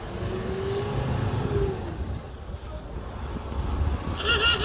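A train passes in Jerusalem as a low, steady rumble with a faint rising whine, heard from a distance over outdoor wind and street noise, without talking.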